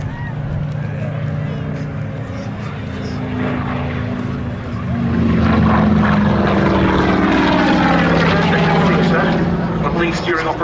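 A Curtiss P-40F Warhawk fighter at a Duxford airshow approaches with a rising propeller-engine drone that swells loud and holds, heard with a commentator speaking over a PA.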